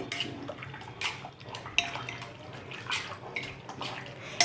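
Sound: hot water mixed while washing steel utensils

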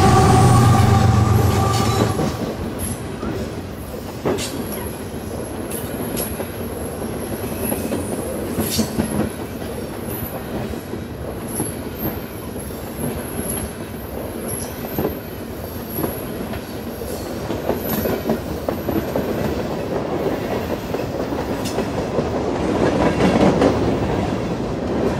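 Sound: Canadian Pacific 39Z freight train passing northbound

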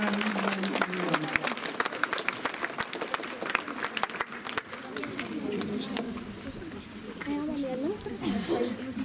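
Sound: applause for the first-graders at school year opening

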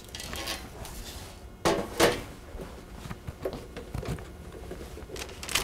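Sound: baking pan being moved out of the way

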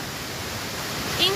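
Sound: waterfall, Cachoeira Buettner in Brusque

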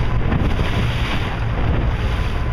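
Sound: motorboat planing on water

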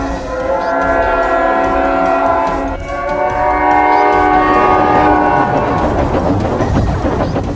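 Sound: train passing with horn in Roblox Piggy video game

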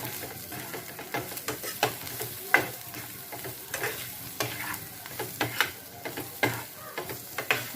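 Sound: onion with turmeric, Kashmiri chilli and coriander powder frying

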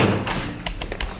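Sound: knocking on a door

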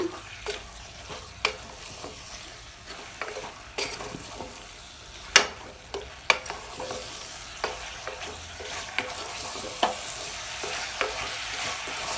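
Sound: stirring frying onions and chillies in pan

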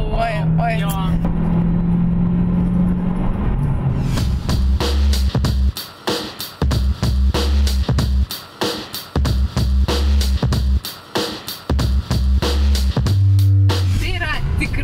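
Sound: 2016 Dodge Challenger SRT Hellcat driving

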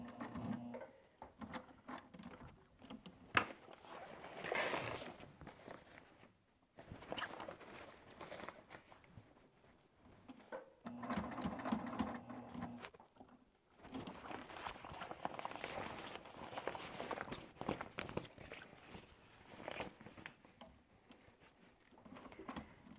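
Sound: sewing machine stitching webbing on an apron

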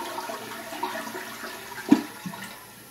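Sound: 1997 Cisa toilet flushing

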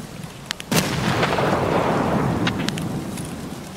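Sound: grenade explosion in video game Escape From Tarkov

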